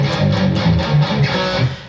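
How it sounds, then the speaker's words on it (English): A short distorted electric guitar ending tag follows a fast 16th-note riff, playing as a loud, punchy cluster of chugged notes and accented chords on its own. "there's this little ending tag that they put in there that sounds like this"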